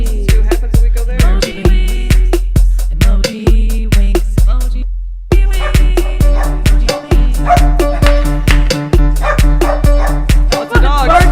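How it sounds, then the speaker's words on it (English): A dog barks in a loud, fast, evenly spaced series of sharp yips that repeat like a beat, with steady tonal sound underneath and short gaps between runs. "Oh, it's a dog. barking."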